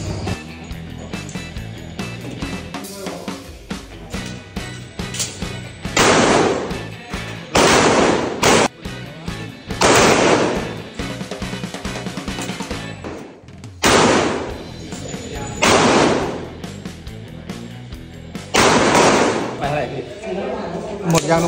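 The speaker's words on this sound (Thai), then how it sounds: "ไปร้องยิงกันเบิ่งครับผม" A gun is test-fired, producing about five loud, abrupt blasts spaced a few seconds apart, with someone talking in between.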